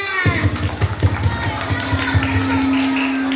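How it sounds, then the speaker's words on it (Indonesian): Schoolchildren in an elementary school audience clap together, a dense burst of applause with rhythmic slaps, alongside a steady tone and some background chatter. "Tepuk tangan semuanya."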